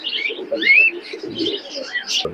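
Pigeons in the Big Bazar pigeon market in Khulna, with a steady mix of close chirps and soft coos overlapping throughout, a brief rising call standing out near the start.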